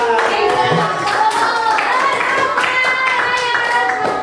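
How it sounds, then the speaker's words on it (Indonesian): Classroom students clapping for their religious teacher during a computational thinking lesson, a dense run of hand claps over steady tonal music, continuous and fairly loud for the whole stretch. "Tepuk tangan dulu buat Ustaz."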